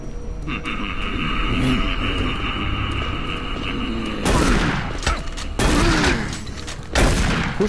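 Gunfire from zombie marines in Doom 3, heavy sustained shots and booms over a droning background, with loud bursts later on and growling creatures mixed in.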